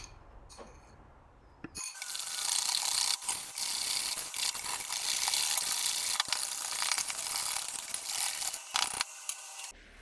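Sponge cake batter being whisked with meringue in a mixing bowl: a steady, fast scraping whir that begins after a short quiet start, then runs continuously and fairly loud with small rhythmic variations and a brief dip near the end.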